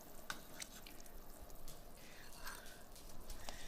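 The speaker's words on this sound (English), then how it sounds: "I just pulled a little off the side, and I'm going to go ahead and continue to do that. Let them drop in." Spoonfuls of dumpling dough dropping into simmering turkey broth make a few soft, separate plops and drips at uneven intervals, faint and close over a quiet background with no talking.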